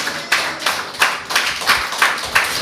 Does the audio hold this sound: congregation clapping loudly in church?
yes